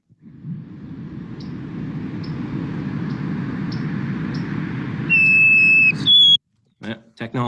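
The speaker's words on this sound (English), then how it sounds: "So that's the song of the black-capped chickadee." Black-capped chickadee song played back over steady background hiss, heard as a clear, pure whistled note held then stepping to a second tone, followed by a brief burst of talking.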